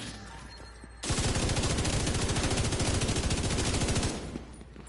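Light machine gun fire rattles out in The Division 2, a fast, continuous burst of rapid shots lasting about three seconds, loud and close, then cutting off over a quieter background.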